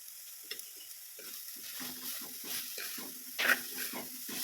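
Garlic sizzles gently in a pan for a Kerala leaf thoran, with soft stirring and scraping sounds over a low, steady frying hiss and no voices.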